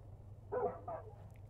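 A dog in the video game Far Cry 5 gives two short barks, moderately close but fairly soft over a low steady game hum, with no talking.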